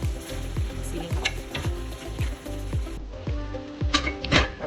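Long green chilies and cooked meat for Bicol Express being stirred in a frying pan, with rhythmic scraping strokes of the spatula over a continuous sizzle and a few sharper clatters toward the end, close by.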